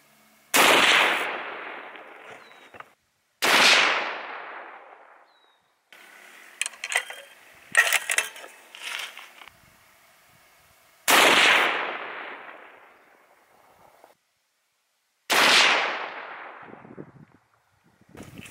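Four loud, sharp .338 Lapua rifle shots ring out several seconds apart at an outdoor range, each cracking and then echoing away, with quieter clicks and handling noises between the second and third shots.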